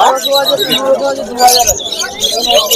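Budgerigars in a crowded pet market bird stall chirp and chatter continuously, a dense flock twittering close by, with market voices and general crowd babble mixed underneath.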